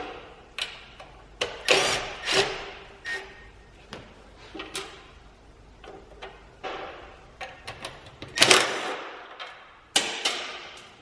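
Power tool working bolts loose on a Toyota 2JZ engine, heard as a string of sharp, close impact bursts and clicks at irregular intervals, with one louder burst near the end.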